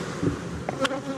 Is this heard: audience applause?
no